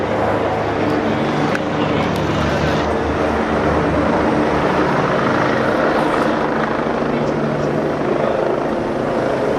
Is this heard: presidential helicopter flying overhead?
yes